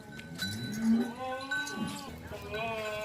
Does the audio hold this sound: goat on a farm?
yes